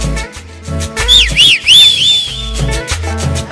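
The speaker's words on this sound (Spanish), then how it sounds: "Échate el chiflidito." A person whistles a lively, sliding melody over a loud guitar and bass backing in a regional Mexican song, the whistle rising and falling in quick swoops near the middle before the band carries on.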